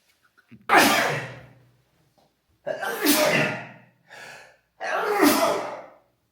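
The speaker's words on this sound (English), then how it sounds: "It seems like the whole day I've been having these sneezing fits." A person sneezes repeatedly in a sneezing fit: three loud, explosive bursts spaced about two seconds apart, each trailing off, with a softer breathy sound between the second and third, close by with no other sound.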